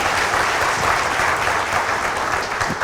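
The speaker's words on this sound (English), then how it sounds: "Can we have another big round of applause for them?" A tech conference audience gives a big round of applause for panelists after a hiring discussion: dense, loud, continuous clapping from a large crowd, holding steady throughout with no talk.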